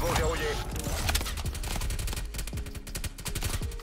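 Suppressed gunfire from a video game sounds as rapid muffled clicks and snaps in dense bursts, heard under a voice talking throughout.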